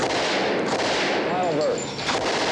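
Gunfire from an old FBI radio drama, shots fired in small groups of two or three, sounding sharp but muffled inside a dense, noisy recording, with a faint voice mixed into the background.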